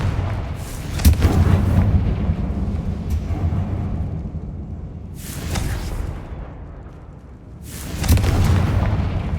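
Repeated spell explosions of Confringo in Hogwarts Legacy burst out as three loud booming blasts a few seconds apart, each with a broad crack that decays into rumbling.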